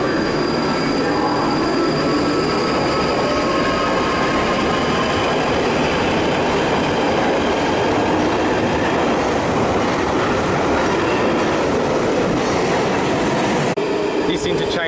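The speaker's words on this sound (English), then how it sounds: "here's a southbound Northern Line service departing" A southbound London Underground Northern line train departs the platform, loud and close, its steady rumble laced with wheel squeal and rail clatter throughout, with speech faintly under the noise.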